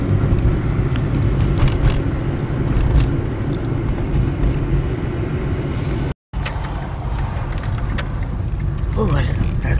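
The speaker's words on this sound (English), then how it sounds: "Oh, there are cars." Cars pass along a road in a steady, loud wash of traffic noise that fills the whole stretch, with a brief dropout near the middle and people talking over it.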